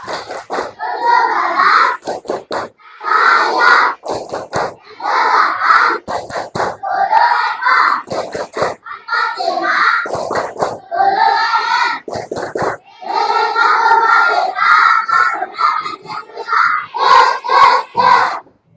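Indonesian schoolchildren chant "Tepuk Pancasila" together in a loud rhythmic call, punctuated by sharp bursts of synchronized hand clapping in a repeating pattern.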